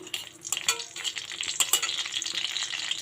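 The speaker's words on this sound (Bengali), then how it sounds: "আমি এবার এর মধ্যে নারকেল কুচি দিয়ে দিচ্ছি।" Grated coconut hits a hot pan for a South Indian seafood clam dish and sizzles loudly and steadily up close, with stirring scrapes and clatters on top and no talking.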